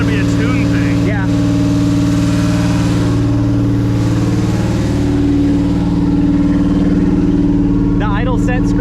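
A project car engine idles high and steady at about 2,000 rpm with the idle set screw fully shut, a loud continuous drone running throughout, with people talking briefly over it near the start and end.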